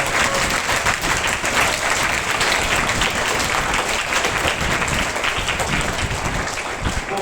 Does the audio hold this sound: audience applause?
yes